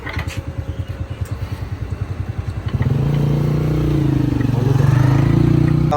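A motorcycle engine thumps at a rhythmic idle, then revs up into a steady, louder drone, close by.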